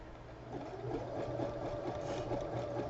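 A sewing machine running a wide zigzag stitch while joining patchwork for a table cloth, a steady close motor hum with a rapid rhythmic needle chatter throughout.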